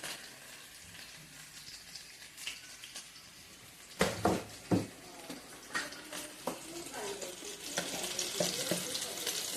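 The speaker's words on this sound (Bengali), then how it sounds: "তারপরে ডিমগুলো ফ্রাই করে নেব।" Eggs frying in a pan for a home-cooked lunch, with a steady, fairly quiet sizzle throughout and several sharper crackles and spatters in the middle, while faint voices murmur under it.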